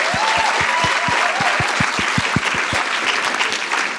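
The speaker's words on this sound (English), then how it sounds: "Can we please give them a final round of applause?" An audience at a Heritage Day commemoration applauds steadily, with dense clapping and a few distinct rhythmic claps standing out over the crowd for the whole stretch.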